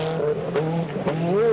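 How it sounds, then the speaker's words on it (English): A 1988 four-wheel-drive rally car with five-speed gearbox and roughly 430 brake horsepower barks its engine in sharp bursts with turbo flash, revving loudly and close through quick right-left direction changes with some tire noise. "Bark of the engine and the flash from the turbo as he sets the car up just to go right"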